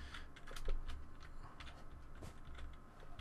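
Rapid computer keyboard typing during a Minecraft parkour game, a steady stream of close, quiet clicks and taps with no talking.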